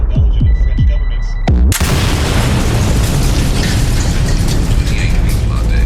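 A car bomb explosion in a short film: a few low thuds lead into a single sudden, very loud blast that gives way to a sustained, roaring rumble of debris and fire.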